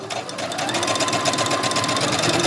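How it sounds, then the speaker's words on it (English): Sewing machine running steadily at a continuous fast stitching pace through fabric, close and loud, with no talk over it. "As you sew, you're going to just pull it straight."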